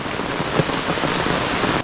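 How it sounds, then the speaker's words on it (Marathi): Steady rain falls in a close, continuous hiss during a passing monsoon shower, with no voices over it. "पाऊस काय थांबणार नाही आता तो सरीवरचा पाऊस आहे थोडा थोडा थोडा थोडा येतो आहे"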